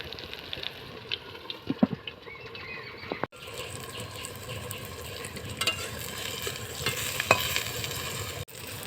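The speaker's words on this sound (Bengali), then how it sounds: "হালকা হালকা করে ভাজতে জ্বালন দেবো।" Eggplant slices frying on low heat in a pan, a soft, continuous sizzle broken by scraping and stirring clatter and a couple of abrupt knocks, heard close with no talking.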